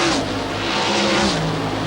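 A NASCAR race car engine roars steadily at high revs with shifting pitch as the car slides sideways through a corner, loud and close, with no one talking.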